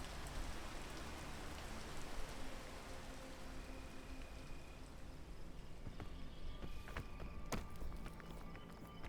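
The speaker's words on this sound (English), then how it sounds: "That way I'm not trying to fight against the rain." Rain falling in the video game PEAK, a steady dense hiss of drops on surfaces with faint scattered ticks and tones, low in level with no talk.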